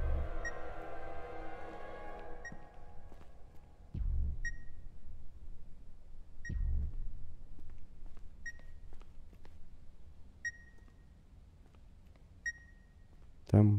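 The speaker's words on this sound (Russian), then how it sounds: "Секунду, это пикание. Звук как будто доносится изнутри." High, clean electronic beeps repeat about every two seconds from inside a deer carcass hung on a rope in the horror game The Beast Inside, over a low ambient rumble with a brief heavy thud between them.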